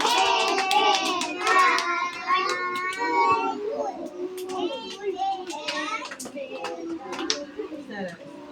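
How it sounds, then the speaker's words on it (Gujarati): Scattered hand claps from a small group, probably children, pop throughout, rather thin and uneven, mixed with overlapping children's voices and chatter. "હાલો તાળી પાડો જી."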